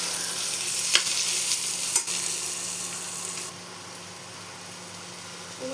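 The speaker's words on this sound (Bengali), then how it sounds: "জলপাইগুলো হালকা একটু ভেজে নেব, খুব বেশি ভাজতে হবে না," Olives lightly frying in a pan for a chutney, giving a steady soft sizzle with a couple of faint scrapes, and the hiss dropping quieter midway.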